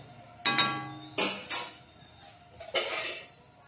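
A lid settles onto a pot of fish-head muri ghonto simmering in water, with four or five distinct metallic clanks and clinks in two clusters, close and fairly crisp against a quiet kitchen.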